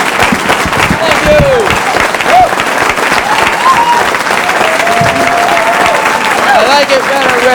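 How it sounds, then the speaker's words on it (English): A comedy-club audience in 1989 breaks into loud, sustained applause for a comedian, with dense clapping and cheering filling the room throughout. "a big round of applause for Cambridge's own Jimmy Tingle"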